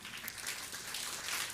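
A congregation at a Quechua Sunday church service claps together in a steady, even patter of applause with no break.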